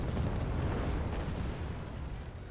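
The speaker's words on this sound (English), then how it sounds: "We got artillery onto the town once again." Artillery fire pounding a town in the Wargame Red Dragon strategy game, a continuous loud rumbling barrage of deep booms that holds steady and fades slightly toward the end.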